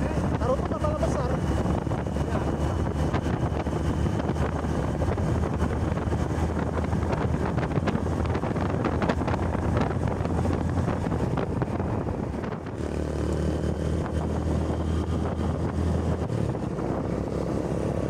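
Aboard a large ship on a trip out of Sibolga, a heavy engine drones steadily while wind buffets the microphone, a loud, continuous rumble with a short dip partway through and faint voices beneath.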